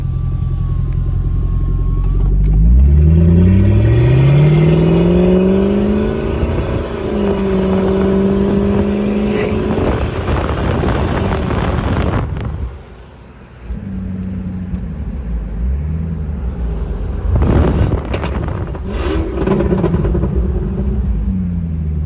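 A Jeep with its catalytic converter stolen revs loudly on a Los Angeles street, the unmuffled engine rising and falling through several throttle blips with a deep, raw rumble and a brief drop to idle.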